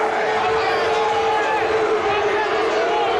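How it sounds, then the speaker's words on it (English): Large football stadium crowd reacting with displeasure at a Legends Football League game, a loud sustained roar of voices with booing and shouting filling the space, a commentator's voice running over it. "This crowd not liking it."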